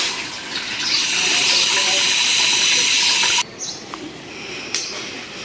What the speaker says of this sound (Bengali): কড়াইতে পানি দিয়ে দিই